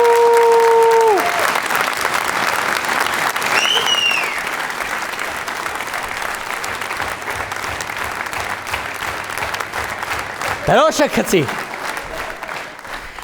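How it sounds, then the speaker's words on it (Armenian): Studio audience on a television show clapping loudly in a sustained, dense burst of applause, with a voice speaking at the very start and brief musical tones over the clapping. "Մի հատ բարձր ծափանենք"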